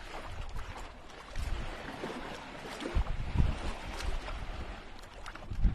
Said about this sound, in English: let's listen to the waves.